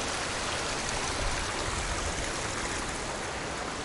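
A stream of water flowing toward the sea at natural rock pools in the Azores, giving a constant rushing, bubbling hiss, close and even throughout, with no talking.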